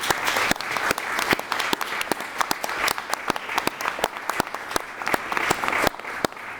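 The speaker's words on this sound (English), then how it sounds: "Would you join me in applauding?" An audience applauds a health and medicine AI panel at a parliamentary group event, a steady close burst of many hands clapping with sharp individual claps standing out throughout.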